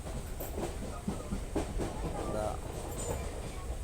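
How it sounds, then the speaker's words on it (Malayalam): A local train rolls along with a steady, close rumble and a rhythmic clickety-clack of wheels on the rails, continuous throughout. "സ്റ്റേഷൻ പിന്നിട്ട് പിന്നിട്ട് ഇങ്ങനെ പോയിക്കൊണ്ടിരിക്കും ലോക്കൽ ട്രെയിൻ"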